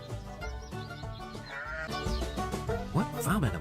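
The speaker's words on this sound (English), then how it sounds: "Yes, a duck." A farm duck quacks in a few honking bursts toward the end, over a dense, layered background of tones.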